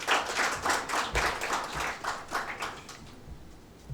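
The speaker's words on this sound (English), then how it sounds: "one more clap for Mr. Amit ji." Audience clapping at a talk on commodities and India's growth, a burst of individual hand claps with a loose uneven rhythm, close and clear at first, thinning and tapering off toward the end.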